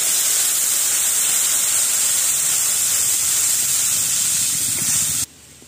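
Water hits a hot pan holding turmeric and cumin powder, and a loud, even sizzling hiss carries on for several seconds before stopping abruptly.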